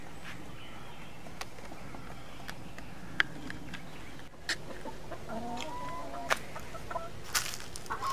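Chickens cluck softly and continuously in the background, with occasional sharp clicks and brief louder calls over steady outdoor ambience.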